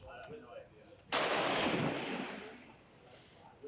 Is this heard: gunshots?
yes